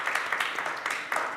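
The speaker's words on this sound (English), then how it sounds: "Another round of applause for these guys" An audience claps for a panel of speakers at a digital and technology week event, producing a moderate, steady round of applause with slight rhythmic swells and no voices over it.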